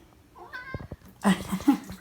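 A cat gives a short, close meow followed by a louder drawn-out caterwaul, brief and up front in a quiet kitchen.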